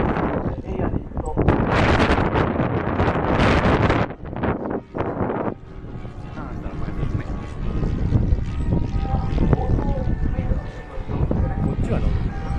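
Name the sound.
strong wind blowing at model airplane meet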